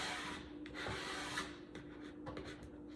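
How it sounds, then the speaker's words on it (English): Sticky residue is scraped off a rhinestone template in short, quiet rubbing strokes with small scratchy pauses, close up and faint, with no voices. "So I'm going to go and just make sure that I've scraped all of the stickiness that remain"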